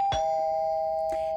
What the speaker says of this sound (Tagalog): Pindutin ko na yung doorbell.